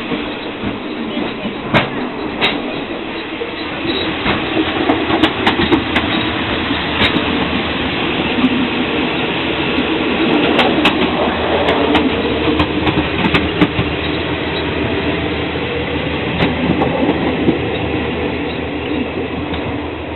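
Steady rumble and rattle from inside a passenger train travelling from Kuala Lumpur to Bangkok, with faint clicks of wheels on track and occasional bits of talk under the continuous noise.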